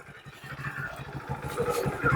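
Motorcycle engine rumbling and revving nearby on a forest route, loud and irregular, with a faint voice underneath.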